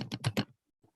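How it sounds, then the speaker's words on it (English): Quick burst of typing on a computer keyboard while entering a web address: four rapid key clatters close together, then silence and a faint click. "So I'm typing the URL"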